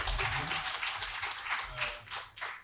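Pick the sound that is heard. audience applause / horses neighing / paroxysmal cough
audience applause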